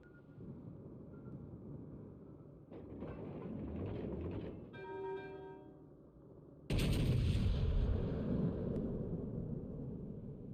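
Naval guns fire from a warship in a combat video game, with heavy booms and explosions that build over the clip and swell into a loud, dense blast in the second half, with no speech.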